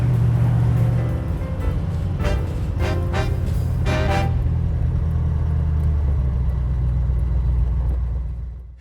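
A Tatra car drives along with a steady low engine rumble and road drone, fairly close, with a few brief bursts of clattering midway before the hum carries on and fades out.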